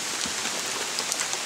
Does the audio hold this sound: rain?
yes